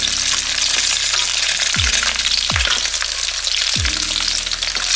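Eggs frying in oil in a pan, a loud steady sizzle and crackle filling the whole stretch up close, with a few low sliding tones passing underneath.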